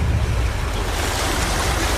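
Floodwater rushes and sloshes around a car stuck on a flooded street in a Berlin storm, a loud, constant broadband wash with no gaps.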